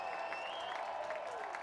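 A crowd of about 5,600 at a Trenton Thunder minor league baseball game against the New Hampshire Fisher Cats cheers in a steady, distant roar with a sustained whistle-like tone over it, lasting under two seconds.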